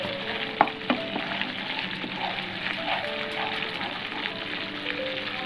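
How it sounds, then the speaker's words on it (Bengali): Spice masala for a Bengali prawn curry in coconut milk sizzles continuously in a pan, an even close frying hiss with a couple of sharp spoon taps early on and no voices. "ভালো করে মশলাটাকে কষিয়ে নিয়ে"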